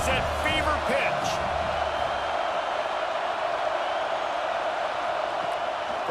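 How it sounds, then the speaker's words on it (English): Dense, steady stadium crowd roar filling a college football video game broadcast of Oregon at Washington, a third-down red-zone moment, with brief bursts of commentary voice near the start above the constant wash of noise. "this crowd is at fever pitch"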